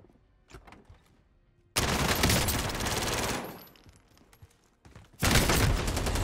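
Gunfire in Call of Duty Warzone: loud sustained automatic bursts, one long volley followed by a quieter stretch with scattered single shots, then another heavy burst near the end.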